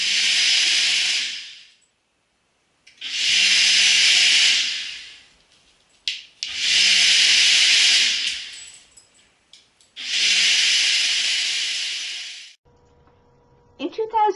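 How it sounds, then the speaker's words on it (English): A kitchen blender runs in four loud, steady bursts of about two seconds each, separated by brief pauses, with a short faint sound at the end. "I noticed she was uncomfortable with the sound of my blender"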